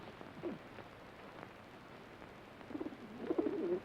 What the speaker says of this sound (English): That pigeon belongs to Newcomb. He has plenty more of them